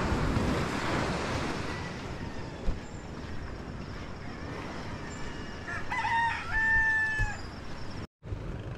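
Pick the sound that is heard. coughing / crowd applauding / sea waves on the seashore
sea waves on the seashore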